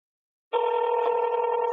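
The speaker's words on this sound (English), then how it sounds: "I'm gonna see if she can answer her phone" A telephone tone starts abruptly after a moment of silence while a call is placed to someone, a steady, loud, unbroken electronic hum that holds to the end.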